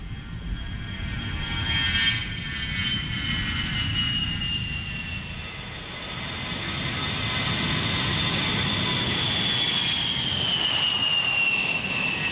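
An A-10 Thunderbolt II Warthog with TF-34 turbofan engines runs with a steady whining hum and a low rumble, the high whine rising and shifting in pitch as the jet moves.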